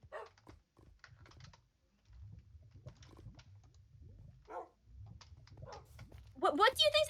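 Dogs make brief whimpering, yipping sounds, loudest near the end, over steady computer keyboard typing and quiet talk.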